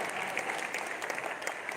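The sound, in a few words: audience applause at a comedy poetry gathering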